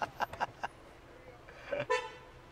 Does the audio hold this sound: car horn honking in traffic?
yes